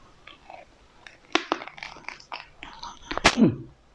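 Crisp crunching bites and chewing of crispy fried pork eaten with Lao-style papaya salad, a run of sharp close crunches that builds to a loud bite near the end, with no talking.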